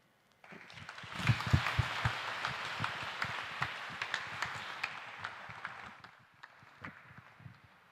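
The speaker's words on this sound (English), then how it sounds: "Give them a round of applause one more time" An audience at an advocates' society launch event claps for a performance, a sustained burst of many hands that swells early, holds steady, then thins out to scattered claps near the end.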